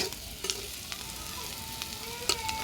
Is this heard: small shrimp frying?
yes